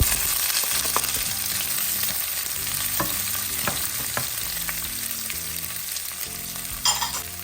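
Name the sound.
garlic and onion sautéing in a pan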